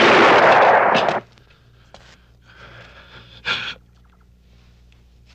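Gunfire in a VIVA Films drama: a loud, broad blast lasting about a second, then quiet rustling, and a second shorter burst a few seconds later.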